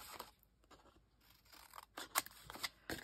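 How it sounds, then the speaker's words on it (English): Scissors snip the corners of paper off at an angle for a coffee grinder mini album craft, giving a few quiet, close, crisp cuts with short rustles between them. "Cut off the corners"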